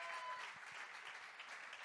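Audience applause at a startup pitch event, a brief soft patter of clapping from a crowd, fairly faint and distant, tapering slightly across the short stretch.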